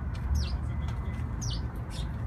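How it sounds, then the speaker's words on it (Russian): Sparrows chirp in short bright bursts while pecking at feed inside a pheasant aviary in Gorky Park, two clear nearby calls over steady outdoor background rumble. "А воробьи кушают его корм."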